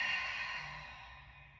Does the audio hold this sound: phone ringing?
no